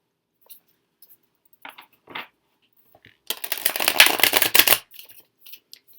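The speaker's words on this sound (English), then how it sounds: "It's not the easiest to shuffle overhand" Cards from a small tarot deck are shuffled overhand, a few light taps and riffles first, then a dense, papery flurry of slapping cards for about a second and a half, close and clear with no talking.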